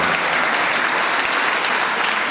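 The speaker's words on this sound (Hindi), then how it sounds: "उनके लिए भी ज़ोरदार तालियां हो जाएगी" A dense burst of loud, steady applause from a crowd at a college welcome party, filling the whole moment without speech.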